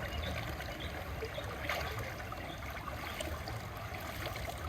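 Water splashes and trickles steadily over hands to rinse off blood, a continuous close wash with no voices.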